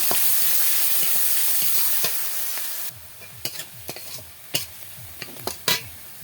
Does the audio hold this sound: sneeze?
no